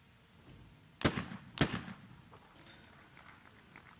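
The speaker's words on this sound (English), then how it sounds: "Middle station, Korea is first to shoot now." Two sharp shotgun blasts about half a second apart ring out at a mixed-team skeet shooting medal match, loud and close, each trailing off in an outdoor echo over low background noise.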